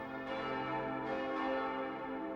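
Church bells ring out across Germany in celebration, a steady rich metallic peal with sustained overlapping tones and repeated strikes, fairly loud and continuous with no voices.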